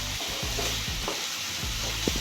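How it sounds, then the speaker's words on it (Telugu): Onions frying in oil with a little salt until light golden, a steady close sizzle with soft scraping stirs recurring throughout, no voices. "లైట్ గోల్డెన్ కలర్ వచ్చినంత వరకు వేయించుకోవాలండి"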